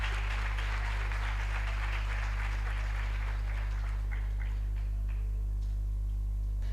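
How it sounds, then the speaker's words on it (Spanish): A conference audience claps to welcome a speaker at a talk on urban data, a faint, distant wash of applause that thins and fades out over a steady low electrical hum. "Le damos la bienvenida con un fuerte aplauso"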